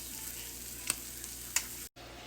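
Old Bay–seasoned shrimp cooking in a gumbo pot, giving a soft, steady sizzle with a couple of brief stirring clinks, quiet and close, cutting off abruptly near the end.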